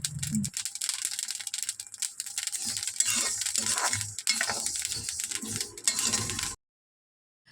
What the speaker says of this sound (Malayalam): നമ്മുടെ അരി അങ്ങനെ പാകത്തിന് വറുത്തെടുത്തിട്ടുണ്ട്.